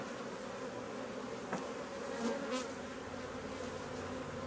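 Honeybees buzz steadily around an open hive while a beekeeper closes it after the summer honey harvest; a dense, continuous drone fills the air close by, with a few louder passes as individual bees fly near.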